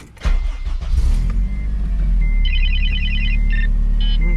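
An Acura RSX engine cranks and fires on its first startup after a new clutch install, settling into a loud, steady idle nearby while an electronic warning chime beeps in short bursts.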